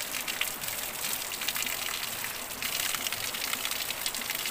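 Cold mountain spring water gushes into a river in Barangay Cumba, Batangas City, a close, continuous rushing splash with no voices.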